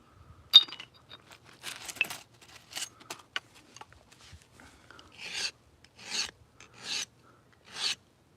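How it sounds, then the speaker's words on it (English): Metal file rasping strokes sharpening a flintknapping pressure-flaking tool with a nail tip, several irregular close strokes followed by four evenly spaced, louder rasps. "I gotta sharpen my tool and probably make the nail a little bit longer"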